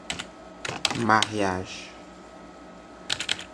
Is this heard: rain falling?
no